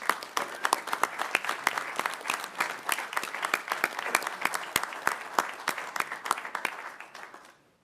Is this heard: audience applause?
yes